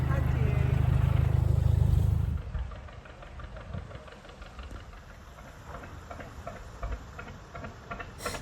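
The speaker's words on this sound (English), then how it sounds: "This boat's engine sounds old" An old narrowboat engine runs with a steady low knocking chug. It is loud at first, then drops to a quieter, regular ticking idle that continues with faint background talk.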